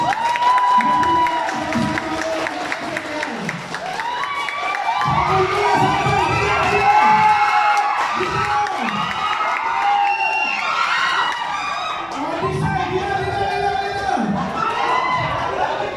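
A crowd at an OFW Got Talent show in Kuwait cheers, whoops and claps loudly and without a break, with children shouting, voices rising and falling in waves.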